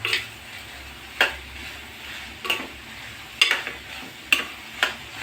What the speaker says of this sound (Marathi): कमी गॅसवर हे सगळे मसाले टाकतो आहे आपण